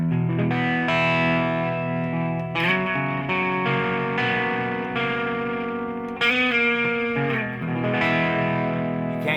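Distorted 1959 Gibson electric guitar with humbucker pickups rings out in thick sustained chords with heavy effects and reverb, playing continuously with no talking.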